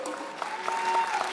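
Audience applause at a concert in Nukus honoring poet Marat Akhmetullaev, a short, dense wash of clapping under faint tonal hum.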